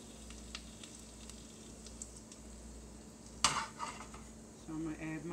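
Garlic frying in a pan for a beef bone stew, a soft steady sizzle with a few light utensil clinks and one sharper scrape of stirring near the end.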